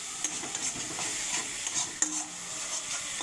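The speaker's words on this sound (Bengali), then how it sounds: "আমরা সেখানে একটু বাটার মিশিয়ে নিচ্ছি" Butter being stirred into a thickening curry-style dish in a pan, with a soft steady sizzle and scraping stirs, one sharper utensil knock midway, no talking.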